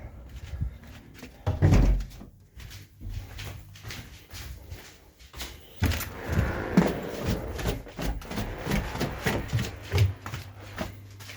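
A circuit breaker being switched back on and a cabinet door closed on a solar panel inverter setup: several separate clicks and clunks, with a louder thump early on and handling noises and rustling after.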